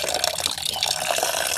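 Water pours steadily into a small container of chickpeas set to soak, a continuous close splashing trickle with no talk over it.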